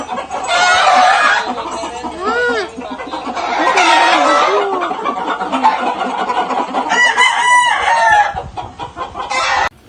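Hens cluck busily throughout while a rooster crows loudly several times, close by, at 4 a.m. on a farm, with the flock noisy and overlapping.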